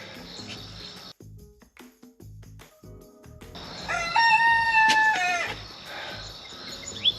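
After some faint knocks and rustling from hole digging, a rooster crows loudly and close by, one drawn-out cock-a-doodle-doo followed by quieter background sounds.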